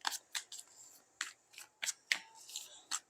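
Tarot cards are shuffled and flicked in short crisp bursts, about eight separate riffling snaps spaced irregularly, close and fairly quiet with no voice over them.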